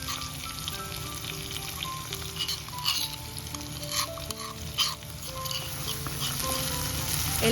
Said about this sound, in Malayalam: കടുകൊന്ന് പൊട്ടി വരുന്ന സമയം ഇതിലേക്ക് 1/4 ടീസ്പൂൺ ഉലുവ കൂടി ചേർത്ത് കൊടുക്കുന്നുണ്ട്